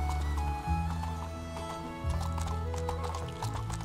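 Horse in the video game My First Horse on Seahorse Island: steady clip-clopping hooves with a whinny, close and clear, with game music playing underneath.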